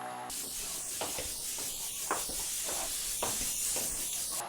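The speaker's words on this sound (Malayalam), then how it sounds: "ഇപ്പൊ നമ്മുടെ കുക്കറിലത്തെ രണ്ട് വിസിലും വന്നിട്ടുണ്ട്" A pressure cooker whistle venting steam while cooking coconut rice, a loud, continuous hiss with rhythmic pulsing bursts, close and sustained for several seconds.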